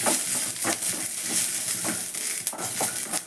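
Green chillies frying and being stirred in a pan for peanut chutney, a steady sizzle broken by scraping strokes of a spatula against the metal, close and alone without talk.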